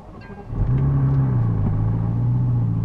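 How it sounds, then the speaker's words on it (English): A 2012 McLaren MP4-12C engine cranks and fires up, catching with a loud rising roar that settles into a steady deep idle rumble, heard close with no talk. "So here we are, the car is started"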